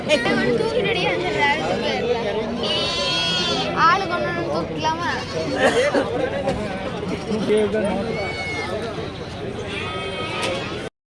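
Goats and lambs bleating at a busy livestock market, scattered bleats rising over crowd chatter, with people talking nearby throughout.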